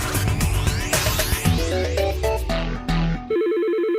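An electronic telephone ringtone from a legacy business phone system warbles loud and alone, a repeating two-tone trill over the last half-second, following a busy stretch of music.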